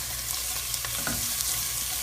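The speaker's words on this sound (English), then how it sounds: "So I just want a light sizzle." Garlic sizzles lightly in oil in a frying pan, with a soft, steady crackle and a few brief stirring sounds.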